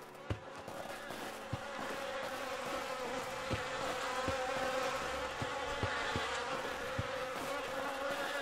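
Insects buzz steadily in the video game The Fidelion Incident, a continuous droning hum with scattered sharp clicks and taps over it, fairly quiet.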